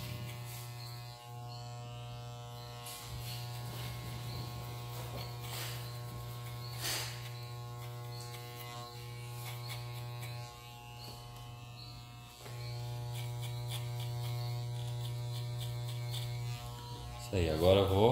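An electric hair clipper hums steadily as it cuts hair during a fade haircut, a constant buzzing drone that continues for the whole stretch with small shifts in pitch and a few brief scraping touches.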